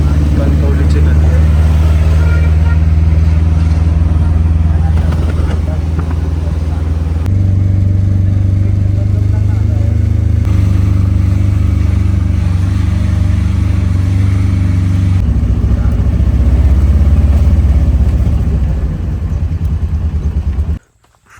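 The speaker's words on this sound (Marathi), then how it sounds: "आम्ही आता 6 सीटर मध्ये बसलोय." A six-seater auto rickshaw's engine drones loud and steady during a ride near Kankavli, a continuous mid-pitched motor hum with slight rises and dips in revs and indistinct voices mixed in.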